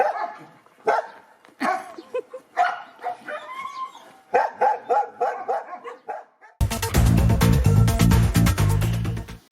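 Dogs bark in a quick, irregular string of loud, close yips and woofs for several seconds, then music takes over and the barking stops.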